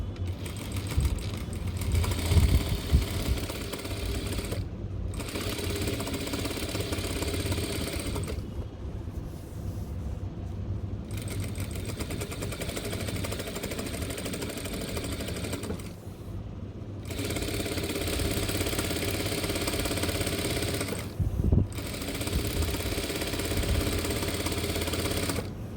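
A sewing machine runs in long steady bursts while top-stitching cargo pants with thick thread, its rapid mechanical whir broken by short pauses between seams, no talking over it.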